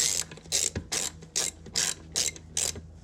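A ratchet tightens a bolt on a Honda Recon ATV, giving seven crisp, evenly spaced clicking bursts close up and alone.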